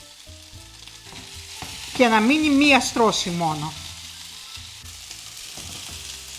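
Meatballs fry in a hot pan on a stove, tossed without a spoon so every side browns; a steady, close sizzle runs throughout while someone talks briefly over the middle.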